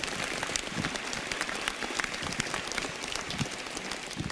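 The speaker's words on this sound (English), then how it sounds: "let's have a round of applause." After a college lecture and Q&A on fake news, the audience breaks into steady, even applause. The crackling, rain-like texture holds at moderate volume throughout, with no clear speech on top.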